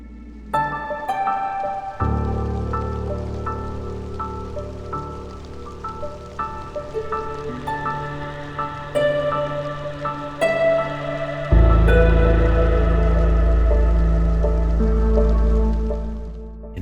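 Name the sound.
drizzle rain in video game Against the Storm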